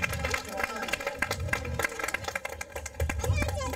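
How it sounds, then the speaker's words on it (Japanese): An outdoor audience at a live show at a light-truck market in front of a Choshi Kannon temple claps in scattered, uneven bursts, mixed with voices and background bustle. "もう一回大きい拍手お願いします。"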